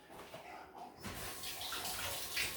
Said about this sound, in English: I'm just going to wet a microfiber towel